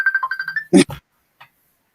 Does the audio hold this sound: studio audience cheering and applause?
no